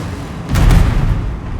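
Heavy naval guns of a Pommern battleship in World of Warships boom in a short cluster, a loud low rumbling blast rising mid-clip and then fading away.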